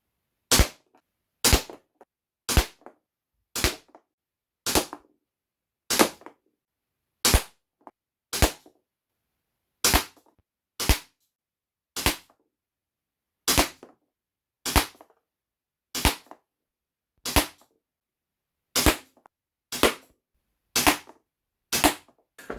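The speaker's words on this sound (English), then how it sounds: "hopefully you will see the results of me testing the Luger P08 without actually any risk to the window" An Umarex Legends Luger P08 air pistol fires about twenty sharp, loud, close cracks. The shots come at a fairly steady pace of roughly one per second, with brief pauses between some of them and nothing else heard.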